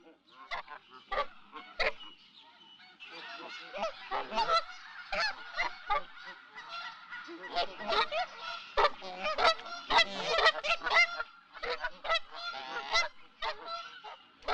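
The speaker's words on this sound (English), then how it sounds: "So you let the geese decide." A flock of geese honking, with many overlapping nasal honks in irregular bursts, fairly close and lively throughout, with no human voices.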